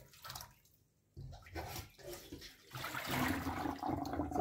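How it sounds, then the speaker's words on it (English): Callaloo leaves are washed in water in a kitchen, with uneven bursts of splashing, swishing and running water that pause briefly, then grow fuller and louder toward the end. "So you want to go ahead and wash it and wash the leaf good."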